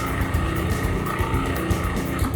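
A food processor blending chipotle and sea salt drones with a steady, loud motor whir, without pause.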